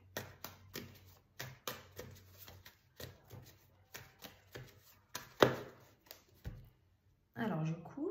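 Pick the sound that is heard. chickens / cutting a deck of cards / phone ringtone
cutting a deck of cards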